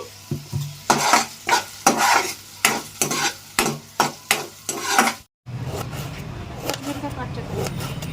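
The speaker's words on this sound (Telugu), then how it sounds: "అల్లం కూడా వేగిపోయిందండి" Ginger frying in a pan for chutney, stirred with a utensil in steady rhythmic scrapes over a sizzling background, a brief pause, then continuous sizzle with a voice talking over it.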